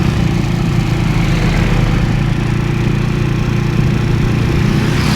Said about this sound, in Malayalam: മരം കട്ടിങ്.